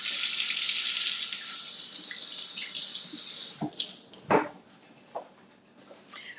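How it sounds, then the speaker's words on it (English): A kitchen tap runs hard for about a second over a bell pepper being washed, then the flow thins to splashing and dribbling as the pepper is rubbed and handled under the water, close up with no talk. "We're going to start by washing our pepper."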